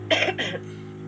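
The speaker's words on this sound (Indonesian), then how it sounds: "Maaf ya, Ibu batuk." A teacher coughs twice in quick succession in a classroom, with a short rough throaty tail after the coughs, close and fairly loud over a steady low hum.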